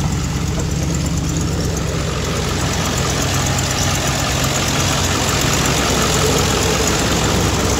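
A first-generation Dodge engine with 45,000 original miles and old gas idles loudly and close, a steady, even chugging rumble that runs unbroken throughout, with no talking.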